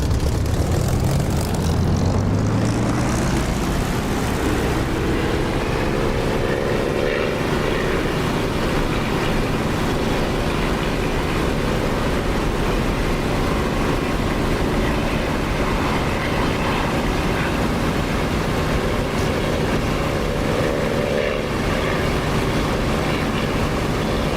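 A propeller aircraft engine in the DCS flight simulator game throttles up from a lower drone to a loud, steady roar that holds for over twenty seconds with no speech.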